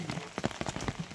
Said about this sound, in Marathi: अजून वरी पाऊस